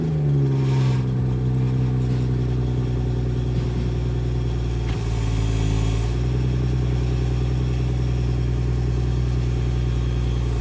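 A 340i car's engine idles steadily nearby with a low, throaty exhaust drone and a faint metallic exhaust rattle running through it, no voices.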